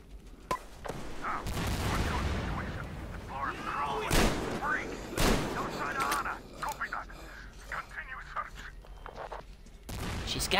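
Metro Exodus gunfire: a string of sharp, loud shots at irregular intervals over a rumbling, noisy battle background, with a voice heard along with the combat.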